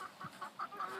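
A Polish chicken on a farm clucks in a rapid series of bright, evenly spaced calls, close and fairly loud, with no voices.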